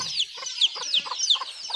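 A chicken clucks in a quick run of close, clear, rhythmic clucks and chirps against a quiet background, with no talk.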